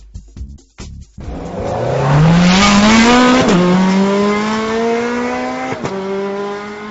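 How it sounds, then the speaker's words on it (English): A 2009 Ferrari 430 Scuderia engine revs hard and accelerates, a loud, close, rising howl that climbs through gears with brief dips at shifts, sustained and alone without talk. "the engine makes the most astonishing noise. It really does sound like a race car for the street."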